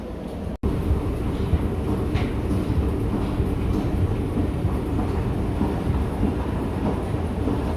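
A train at a station at night fills the scene with a loud, steady rumble of rolling wheels and carriages, with a sharp brief break near the start and faint metallic squeaks above the continuous roar.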